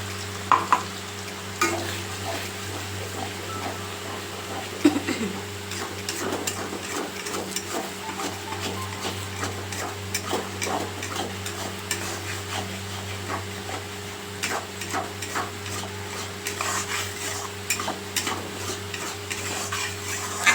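Tomato paste cooks with spices in a pan under a soft continuous sizzle. Frequent scraping and tapping stir strokes run throughout, fairly close and moderately quiet, with no voices.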